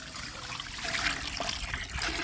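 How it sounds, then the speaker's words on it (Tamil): A continuous, soft trickle of water pours from a measuring cup into a cooking pot while kuska rice is being prepared, with a faint splashing stream throughout. "இந்த கப்புக்கு வந்து 2 கப்பு தண்ணி ஊற்ற போகிறோம்."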